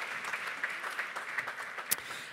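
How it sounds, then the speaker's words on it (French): An audience at an awards ceremony applauds, a steady patter of clapping hands with a few sharper claps standing out. "Applaudissez-le."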